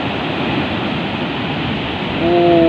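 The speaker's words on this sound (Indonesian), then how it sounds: "itu datang lagi tuh ombaknya itu" Loud, continuous roar of ocean surf breaking on a clean beach, waves crashing against coral rocks close by and swelling louder toward the end.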